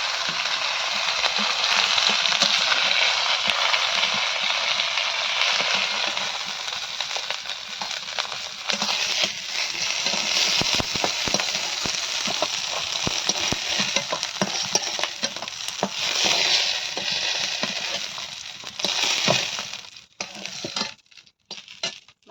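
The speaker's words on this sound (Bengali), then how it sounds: "লাল লাল করে ভেজে নিয়েছি এবার তুলে নেব ভালো করে" Pieces fry in a pan until reddish, giving a steady dense sizzle and crackle with repeated scraping stir strokes, loud and close throughout before thinning into a few scattered clicks at the end.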